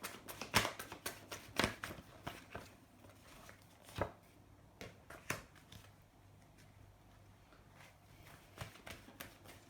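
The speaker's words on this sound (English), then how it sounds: "One more shuffle, okay." Tarot cards being shuffled in a quiet room, giving a run of irregular crisp riffles and soft slaps that are loud early on and then lighter and more scattered, with no talking.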